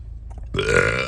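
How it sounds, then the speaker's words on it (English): A single loud, close burp bursts out after a brief quiet moment and rumbles for about half a second, standing alone without talk. "I had to let that burp go"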